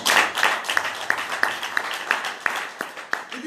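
Church congregation applauding for the Lord at a worship conference, a crowd of hands clapping together in a steady rhythmic beat, loud and sustained.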